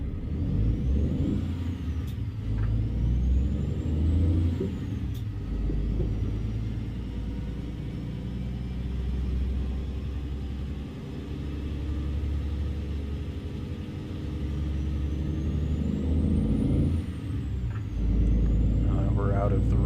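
A truck pulling a trailer rumbles and accelerates hard out of a rest area, deep engine drone swelling and easing with gear changes, sharp air-brake hisses at the start and someone talking over it.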